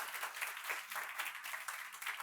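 A UPSC answer-writing class claps for the student who came top: a fairly soft, even patter of many hands that runs steadily throughout, with no talking.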